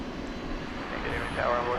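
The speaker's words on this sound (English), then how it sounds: "And there is the Dreamliner" Boeing 787-9 Dreamliner jet passing at night on a flight to Istanbul, a steady low engine roar with a faint rising whine, under someone talking.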